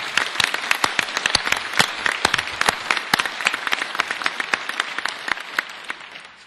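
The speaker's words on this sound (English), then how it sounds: "let's give him a round of applause" Dense crowd applause from a Rotary Club audience honoring a city mayor, steady and fairly loud, gradually thinning toward the end.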